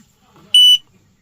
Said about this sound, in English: so it has a beeper in there too